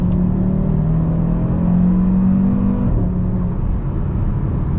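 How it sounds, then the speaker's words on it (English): A stock-exhaust 2024 Audi RS3 accelerates in auto mode, its engine note rising in pitch before a gear shift drops the tone and the rumble continues, heard fairly close from inside or near the car. "Nice little shift sound, some good little exhaust note."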